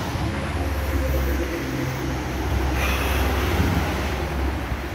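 A Fuso Fighter wingvan truck with a fully mechanical, non-electronic 6D16 diesel engine rumbles loudly and steadily at close range, a continuous low, heavy clatter.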